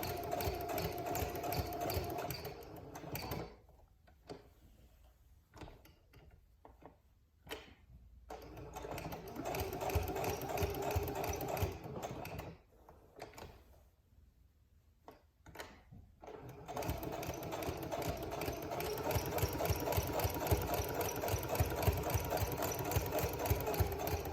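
A sewing machine stitches a quilted pad, its motor whirring in steady close bursts that stop twice for a few seconds of near silence with small clicks before resuming.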